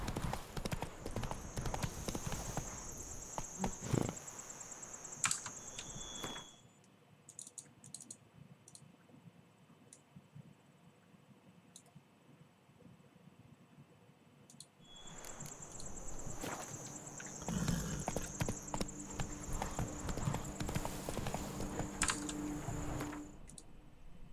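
Roach the horse's hooves clip-clopping in a video game, a steady rhythmic trot with game music and effects, pausing in the middle before resuming, along with clicking from a keyboard nearby.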